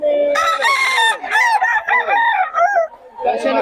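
Roosters along a roadside in Bocaue crow loudly and close by, one long cock-a-doodle-doo followed by overlapping crows and clucks, nearly filling the short stretch.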